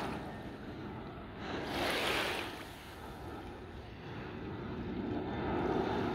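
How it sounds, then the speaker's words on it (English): Faint distant rumble of an aircraft descending to land near Zakynthos airport, swelling briefly then fading beneath steady beach wind and surf. "there's an aircraft coming in now"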